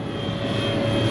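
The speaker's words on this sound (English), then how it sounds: "We got a crop duster, y'all." A crop duster airplane flies low overhead in farm country, a loud, steady droning engine hum close by, with no talk.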